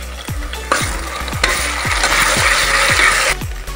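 Onions and ginger garlic paste frying in a pan for an aloo mutton korma, with a steady loud sizzle and repeated metal spoon scrapes and taps as the mixture is stirred, with no talking.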